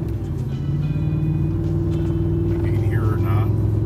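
Ford F-350 Tremor gas pickup towing a heavy trailer pulls away from a standstill, a loud low engine rumble steady in the cab as someone speaks over it.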